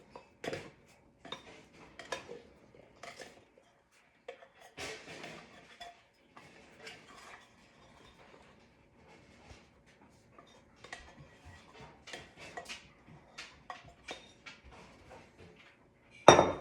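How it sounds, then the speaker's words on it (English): Focaccia dough being scraped out of a bowl, heard as soft, intermittent scrapes and light clinks of a utensil against the bowl. The sounds are quiet and scattered, with one sharper knock at the very end and no talking. "we're going to take the dough and scrape it out"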